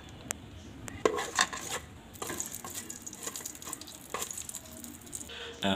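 A spoon scrapes and clinks around the inside of an overheated, nearly oil-free rice cooker pot, giving irregular metallic knocks and rattles at close range, with a faint sizzle beneath.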